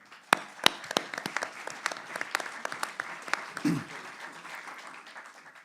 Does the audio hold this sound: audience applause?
yes